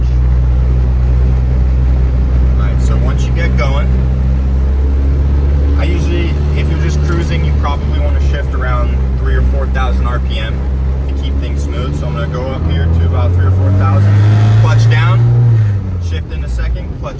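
Manual car pulling away in first gear: a steady low engine drone that rises into a louder rev near the end, heard from inside the cabin under continuous talking.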